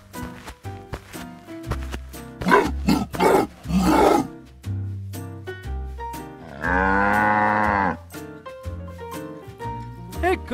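A cow moos once in a long, steady, loud call on a farm, set against cartoon-style music and effects with an animated animal rescue scene around it.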